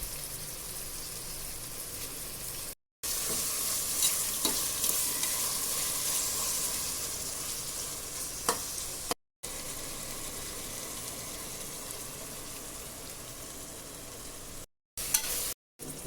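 Onions and tomatoes with a little salt sauté in a pan for chicken biryani, a steady close sizzle with scraping stirs and occasional clinks, broken by a few brief silent cuts.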